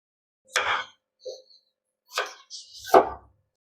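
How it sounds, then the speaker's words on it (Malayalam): A knife chops small onions on a board, giving four or so crisp, close cuts spaced unevenly with quiet gaps between them. "അപ്പൊ നമുക്ക് സബോളക്കൊന്ന് അരിഞ്ഞു കൊടുക്കാം"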